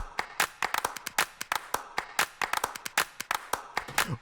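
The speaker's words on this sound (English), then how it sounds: "listen to the claps come in" Sampled hand claps in a solo electronic drum section hit close and crisp in a fast, steady, looping pattern of sharp repeated snaps, with no voice present.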